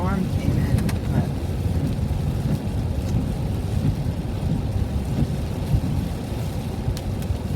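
Steady rain pours down with low rumbling like distant thunder as a storm rolls in, a dense, continuous wash of noise that stays loud throughout.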